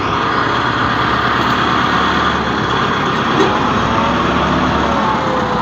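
Tractor 385 engine running steadily during ploughing work on a farm in Dera Ghazi Khan, a loud continuous rumble that holds without pause throughout, with no voices over it.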